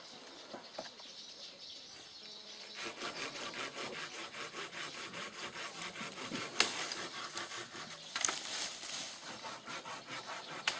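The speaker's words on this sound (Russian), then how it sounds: "Передвинуть мешают вот эти ветки. Их можно отпилить." A hand saw cuts through tree branches outdoors, steady rhythmic back-and-forth strokes continuing for several seconds, fairly close, with faint birdsong in the background.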